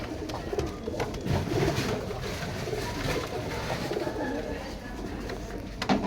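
Pigeons or doves kept for sale in pairs coo and call steadily at close range amid a busy, noisy market background, with some voices faintly present.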